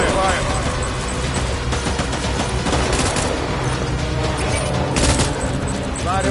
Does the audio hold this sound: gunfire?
yes